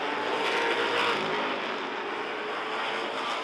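Short-track race cars roar past at close range in a steady, loud wash of engine noise during a Mid-Am feature race, with several cars running door to door.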